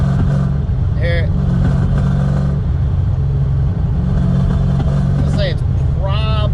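A Ford Fox Body with a 331 stroker V8 lugs below 3,000 RPM while driving, giving a loud, steady, rough engine drone with jerky surges and faint squeaks over the top.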